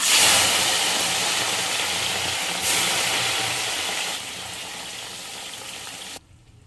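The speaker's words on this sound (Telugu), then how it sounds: "ఇప్పుడు ఈ కాకరకాయలు అన్నీ కూడా ఫ్రై చేసుకోవాలి." Bitter gourds deep frying in hot oil in a kadai, a loud, dense sizzle and hiss that gradually softens before cutting off near the end.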